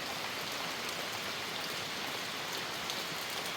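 Rain falls steadily at a rural Thai farm garden, a dense, even hiss of drops on surfaces with no voices, constant in level throughout.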